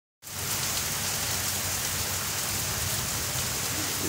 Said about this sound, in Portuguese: Só chuva e trovão